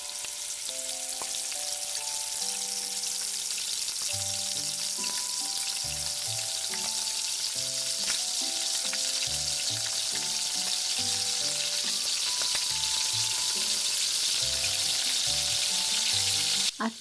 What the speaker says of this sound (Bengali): এদিকে অনন্যা কড়াইতে তেল দিয়ে লুচিগুলো ভেজে নিচ্ছে।